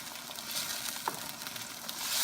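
Cooked tomatoes and onions are stirred together in a hot pan, a continuous gentle sizzle with a brief scrape of the utensil midway, the frying growing a little louder toward the end.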